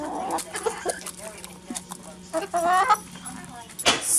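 A pet chicken clucks in short, scattered calls at close range, with a voice speaking softly among the calls and a sharper burst near the end.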